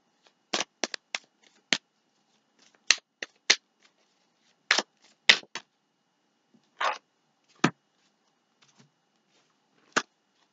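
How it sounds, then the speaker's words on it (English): Tarot cards are shuffled in short, crisp riffling bursts separated by pauses, close up and moderately loud, with no voices. "I'm going to shuffle."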